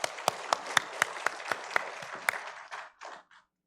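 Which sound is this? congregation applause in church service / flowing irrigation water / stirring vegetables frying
congregation applause in church service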